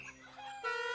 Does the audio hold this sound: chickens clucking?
yes